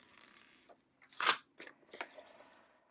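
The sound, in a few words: peeling an adhesive sheet from its backing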